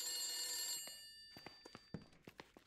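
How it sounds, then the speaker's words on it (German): An old-style telephone bell rings in the horror video game The Beast Inside, a sustained metallic jangle followed by several short separate rings, faint and unaccompanied. "Oh, klingelt ein Telefon, man lässt sich gerne mal Zeit."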